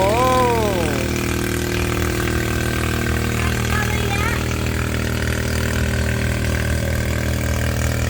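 A boat engine runs steadily at a medium pitch while plants are watered, a loud continuous drone with a brief rising tonal whine at the start.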